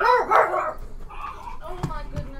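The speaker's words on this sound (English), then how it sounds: "Oh, sorry about the dogs." Dogs bark and yip indoors at close range, a few loud bursts early then scattered quieter yelps, mixed in with someone talking.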